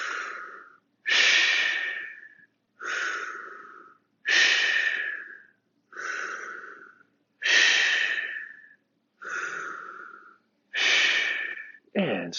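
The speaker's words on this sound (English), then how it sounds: "And then back to the deep breathing." Slow, deep breaths during a gentle seated fitness class, about nine long inhale-exhale cycles in steady rhythm, close and clear with airy hiss and no talking.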